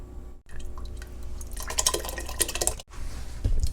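Marinara sauce poured from a jar into a pot of keto creamy lasagna soup, with glugging, dripping and clinking of the container against the pot, fairly quiet and close, with brief pauses.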